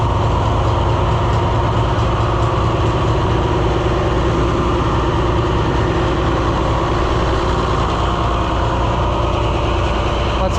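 Oliver 1250 tractor engine running steadily after fuel system cleaning, a continuous loud low rumble with a constant idling throb throughout, no voices.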